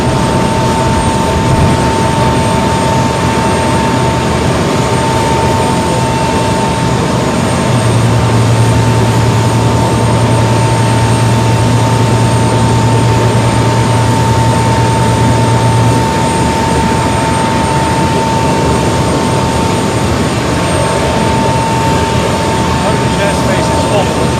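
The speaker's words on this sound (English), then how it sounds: "C-47, huge tail, casting a shadow." Steady, loud aircraft drone from inside a plane while a C-47 flies close behind, with a constant engine roar and hum lasting throughout with no break.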